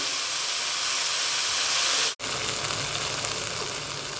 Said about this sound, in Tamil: இது பார்த்திங்கன்னா நல்லா ஒரு அஞ்சு நிமிஷம் இதை நல்லா நம்ம வதக்கி எடுத்துக்கணும்